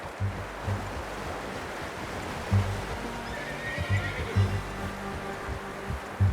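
A horse in the video game Red Dead Redemption 2 whinnies over a steady low rumble of wind and surf, the neighs rising in short bursts amid the ambience.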